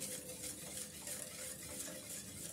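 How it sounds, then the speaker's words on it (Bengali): A spoon stirs milk and sugar in a pot on the stove, making a steady soft scraping and swishing with a faint simmering hiss. The sound runs continuously and quietly, with no voices. "আমি নেড়ে চেড়ে মিক্স করে নিচ্ছি"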